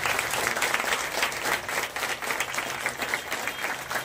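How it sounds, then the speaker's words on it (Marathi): A seated audience at a felicitation ceremony for meritorious students claps together in dense, sustained applause that holds steady at moderate volume throughout, with no voices rising above it. "आणि जोरदार टाळ्या वाजवायचे ज्यांनी हा कार्यक्रम आयोजित केलाय, जे सत्कार तुमचा करणार आहेत त्या फिरोजबाईंसाठी जोरदार टाळ्या"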